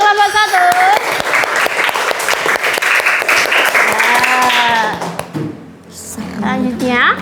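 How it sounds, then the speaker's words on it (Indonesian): Classroom applause for the first presenting group, a dense patter of clapping hands running under overlapping voices and chatter, then fading as talk continues. "Ya, tepuk tangan untuk kelompok 1."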